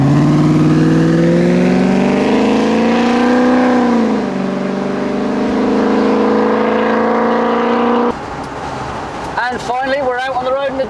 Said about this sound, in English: the next section of this video will be me not saying a lot and the engine running.